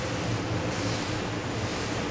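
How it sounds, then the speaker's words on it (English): Water jets propel a Centouno Navi Vespro motor boat at speed, heard as a steady, dense rushing of water and wind with no clear breaks. "Do you hear them? These water jets will keep us entertained."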